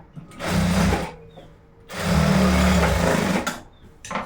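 A domestic sewing machine stitches tucks into the back of a blouse, running in two close, loud mechanical bursts with a brief pause between them and a faint click at the end.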